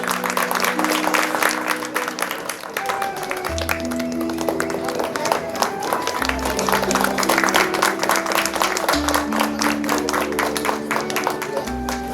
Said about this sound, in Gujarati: બધા તાળીઓથી નવાજી લઈશું આપણે બધા